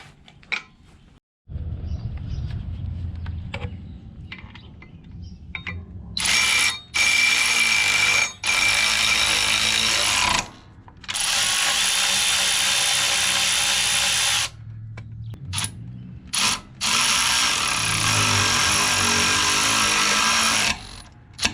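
Milwaukee electric ratchet zipping nuts tight on a sulky mounting for a Wright walk-behind mower, heard as several loud close bursts of whirring motor with short pauses between them, no talking.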